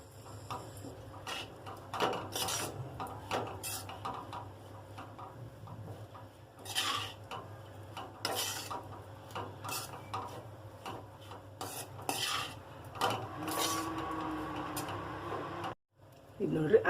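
Avalakki (flattened rice) mixed with salt and chopped coriander in a bowl, soft dry rustling and rubbing in uneven strokes, faint and close, with a voice speaking over parts of it.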